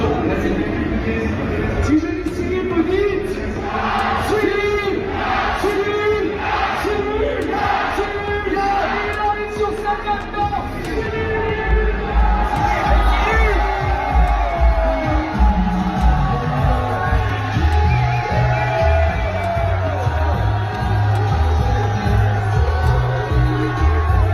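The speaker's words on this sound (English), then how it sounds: "crowds swarmed him for photos and autographs" A crowd at Paris Games Week 2025 swarming UFC fighter Ciryl Gane for photos and autographs, a dense hubbub of voices with shouts and cheering, and talk running over it.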